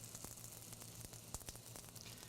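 Eggplant pieces frying in oil in a pan, a steady soft sizzle with scattered crackles and pops, faint and close, with no talking.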